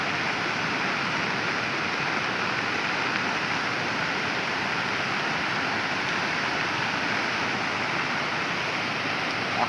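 Heavy monsoon rain pours down on a village in Dang district, a dense, steady roar of falling water that stays loud and unbroken from start to finish, with no voices.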